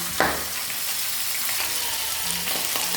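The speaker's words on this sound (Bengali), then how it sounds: "মাছের মাথাটা ভাজা হতে হতে" A fish head fries in hot oil with steady sizzling, occasional soft pops and clinks, continuous and fairly close.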